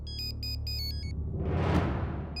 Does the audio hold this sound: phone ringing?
yes